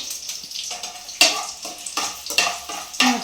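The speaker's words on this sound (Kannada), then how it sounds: "ಒಗ್ಗರಣೆ ಸೀದೋಗುತ್ತೆ" Spices for a tempering sizzle in a pan with repeated stirring and scraping, light metal clinks and crackle in short bursts, up close.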